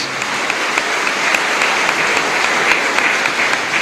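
A church congregation in a chapel breaks into loud, sustained applause, a dense even wash of many hands clapping throughout with no talk over it.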